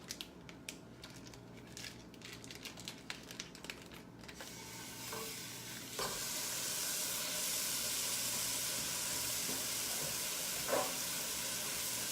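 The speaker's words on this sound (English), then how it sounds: "let me add just a little bit more olive oil and we'll get to browning our meat." Grass-fed beef browning in olive oil in a pan for stuffed peppers: a light clatter of stirring early on, then a steady, broad sizzle that builds and holds, with a couple of brief scraping accents.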